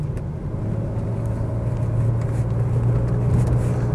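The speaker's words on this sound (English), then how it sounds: "Accelerating nicely." BMW 635CSi with automatic transmission accelerating, a steady low engine drone heard from inside the car that rises slightly as it pulls, with faint road noise.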